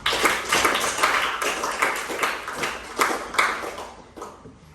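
Classroom audience claps hands together, a dense burst of many overlapping claps with periodic louder swells, fairly close and steady before fading toward the end.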